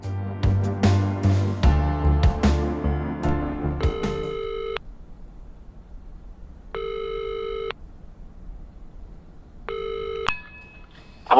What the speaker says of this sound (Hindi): स्पीकर पे फोन लगा और बात कर